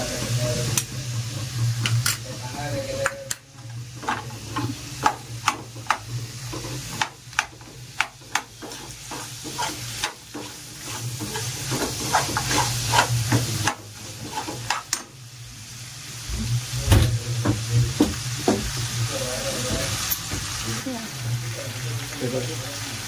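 Butter sizzles with ginger garlic paste in a hot pan for butter chicken, a steady frying hiss broken by sharp stirring scrapes and clinks, with a low hum underneath.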